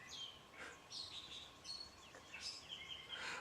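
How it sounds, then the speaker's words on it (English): Several birds chirp and sing at dawn, around 5:45 in the morning, in short, high phrases over quiet background hiss, calls overlapping at a moderate distance. "Can you hear those birds singing?"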